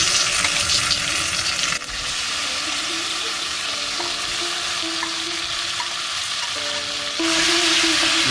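Mutton pieces hit a hot pan with ginger and garlic and sizzle steadily, a loud continuous frying hiss with brief stirring scrapes, the sizzle surging again near the end.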